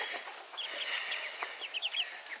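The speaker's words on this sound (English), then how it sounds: "we've got the little heritage birds in here." Small heritage chickens cluck and chirp softly nearby in a coop, a few short, scattered calls over a quiet background.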